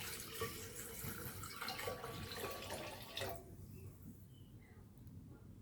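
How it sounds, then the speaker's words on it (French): Tap water runs into a container for a homemade almond-based vegetarian cheese, a steady broadband splash that continues for about three seconds and then stops, leaving a quieter room. "Et je vais rajouter 500 ml d'eau, l'eau du robinet."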